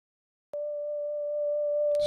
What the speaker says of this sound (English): this sound is just kind of like one sine wave